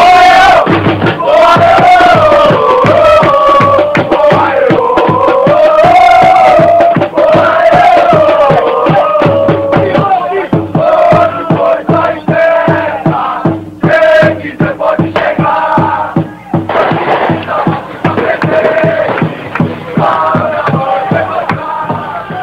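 Organized supporters at an amateur neighborhood football match chant and sing together loudly and continuously, a close massed crowd of voices with rhythmic clapping or drumbeats throughout.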